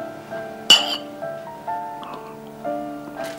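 Drinking glasses clink together during a toast at a table: one sharp, bright clink stands out, followed by softer chimes, with faint steady tones underneath.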